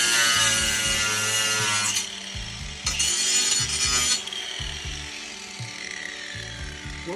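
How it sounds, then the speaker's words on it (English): A power saw cuts off the edges of a wooden spin art table in loud, harsh bursts, with brief pauses between the cuts and a steady mechanical hum underneath. "So now we are cutting off the edges."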